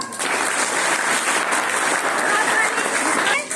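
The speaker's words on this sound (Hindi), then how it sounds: "ताली तो बजाओ।" A school audience at a government higher secondary school prize-giving claps for winning students, a sustained burst of close, loud clapping with voices mixed in, cutting off sharply after a few seconds.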